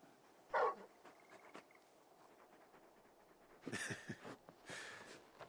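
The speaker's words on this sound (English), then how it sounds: "You're just a big puppy, aren't you? A very big puppy." A large dog in a video game whimpers and pants softly, with a short sharp yelp near the start and a couple of louder whiny vocal bursts toward the end, all fairly faint over quiet background ambience.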